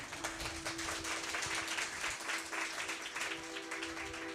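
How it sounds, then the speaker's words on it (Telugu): A church congregation claps together in a dense, sustained burst of applause that fills the space evenly for several seconds, with no voices rising above it. "గట్టిగా చప్పట్లు కొట్టు."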